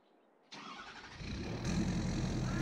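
Pickup truck engine in Farming Simulator 22 starting up abruptly from near silence, then holding a steady, rising idle rumble heard close and alone.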